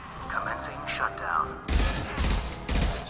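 Gunfire in the video game Mass Effect 2, heavy bursts of rapid shots arriving in three loud clusters after a short stretch of quieter game sounds, with a player's voice present.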